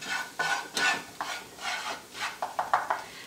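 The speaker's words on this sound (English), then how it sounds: "Just mix that around until it starts to all work together." A spoon stirs flour into the fat in a pan for a Newfoundland beef stew, making a run of close, irregular rubbing and scraping strokes that grow quicker toward the end.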